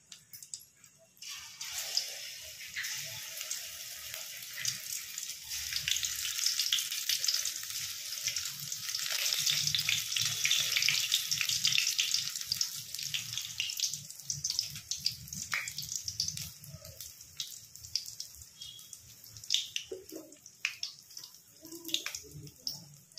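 Spring onion pancake batter fries in hot oil, a loud crackling sizzle that starts after a brief quiet moment, swells, then thins into scattered pops and spatters, heard close.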